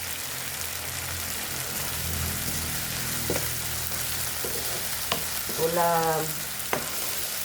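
Corned beef sautéing in a pan, a steady close sizzle with occasional stirring scrapes and clinks, and a brief voice speaking near the end.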